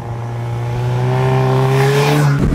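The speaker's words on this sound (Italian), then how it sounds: "A 130 all'ora in autostrada il 4 cilindri borbotta Sornione a circa 4200 giri" A Suzuki Hayabusa four-cylinder motorcycle engine hums smoothly and loudly at steady revs, around 4200 rpm at 130 km/h on a motorway, its tone rising slightly, with wind noise building.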